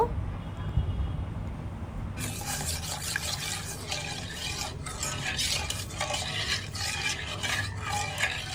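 A spoon stirs powdered milk into a cup of water, making a soft continuous scraping swirl with quiet clinks against the cup, following a brief faint hiss at the start.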